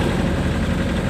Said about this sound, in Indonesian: Walaupun suara mesin bergemuruh